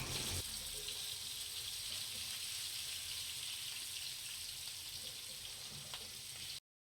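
Fennel seeds sizzle in hot coconut oil, a steady, fairly faint crackling hiss that runs evenly throughout with no voices, then cuts off abruptly at the end.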